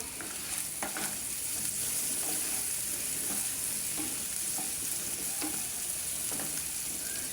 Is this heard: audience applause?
no